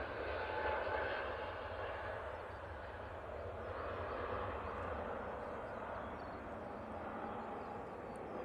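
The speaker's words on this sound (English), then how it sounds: "Next out will be a Ryanair. It's just currently on a taxi going past" Ryanair airliner taxiing past at Manchester airport, a steady distant jet engine rumble and whine that stays even throughout, with faint background sounds.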